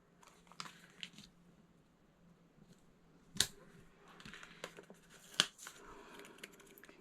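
Scissors cut scrapbook paper in a quiet room, with faint rustling and handling and two crisp, sharp snips standing out.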